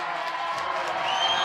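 Volleyball crowd cheering and whooping for Washburn at a 6AAAA quarterfinal against St. Louis Park, a steady, dense roar of many voices filling the gym without letup, with a faint announcer voice mixed in.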